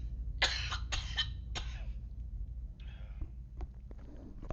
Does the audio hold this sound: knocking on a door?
no